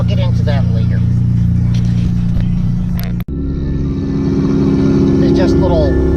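A Honda Civic Type R FK8 fitted with a hood exit exhaust accelerates in third gear on low boost, its loud droning engine note running through the whole stretch with a brief gear-change dip midway, while someone talks over it.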